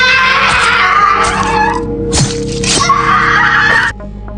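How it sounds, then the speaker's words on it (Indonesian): A woman's drawn-out, wailing scream comes from inside a wardrobe as she is stabbed in a haunted-house horror tale, loud and sustained with a sharp crack partway through and an abrupt cutoff near the end. "Kemudian terdengar suara jeritan Kinan yang ditusuk di dalam lemari itu"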